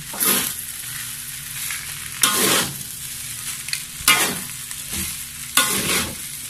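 Squid fried rice is stir-fried in a pan, with four rhythmic bursts of scraping and tossing over a steady, close sizzle and no talk.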